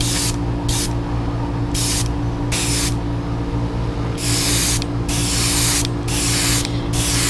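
An airbrush sprays paint onto a Heddon Super Spook fishing lure in a fluorescent orange coat, giving loud close hissing bursts of varying length separated by brief pauses, over a steady compressor hum.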